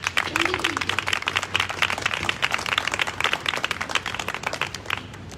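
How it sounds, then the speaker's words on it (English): An audience at a ribbon-cutting ceremony gives a dense, sustained round of applause for the funders, many hands clapping steadily and fairly close for several seconds. "Can you join me in giving them a round of applause?"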